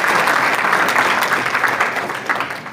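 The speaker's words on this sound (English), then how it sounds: "Please, a round of applause for him." Applause from an audience for Solomon Salka Dalon at an anti-corruption gathering in Taron, a broad wash of clapping that starts strong and slowly tapers over a few seconds.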